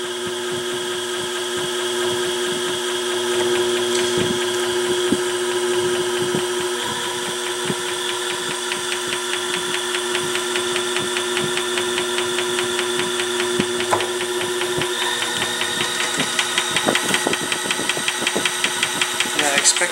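A motorized honey extractor whirs and rattles as it spins during a honey harvest, a steady mechanical drone with rhythmic knocking that grows more pronounced and bouncy toward the end.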